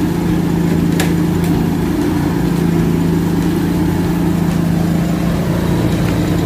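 An inverter generator runs at higher RPM with its eco switch off, giving a loud, constant mechanical hum with a steady low pitch and no variation in level across the whole stretch.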